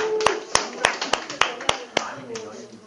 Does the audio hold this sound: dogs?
no